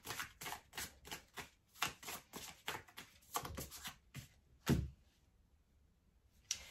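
A deck of tarot cards being shuffled close by, a run of quick, soft riffling bursts in a steady rhythm, then a sharper tap and quiet.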